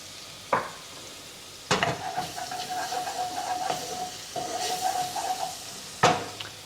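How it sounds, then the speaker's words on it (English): Garlic and ginger sizzle in a pan with a steady close hiss, punctuated by a few sharp scraping knocks of a utensil as they are stirred, with no voices. "You don't want to burn your garlic, so I'm just going to stay with it and stir it."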